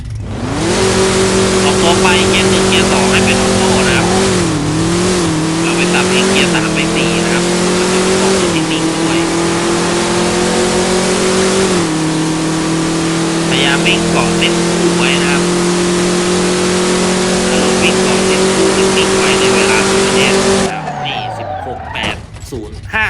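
A car on a drag strip roars through a full run at close range, its engine revving hard with pitch dropping at each manual gear change, before cutting off abruptly near the end.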